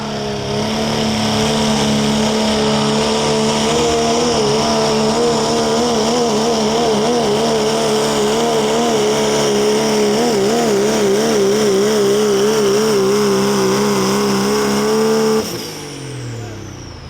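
A gray 3.0 diesel pickup truck strains against a sled at an outdoor truck pull in Tampico, Indiana, its engine holding a loud, steady droning roar with wavering pitch for about fifteen seconds before dropping away abruptly.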